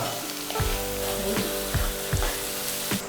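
Ginger garlic paste sizzles steadily in a hot pan for tomato rice, with several scraping stirs of a spoon breaking through at regular intervals, close and clear with no talking.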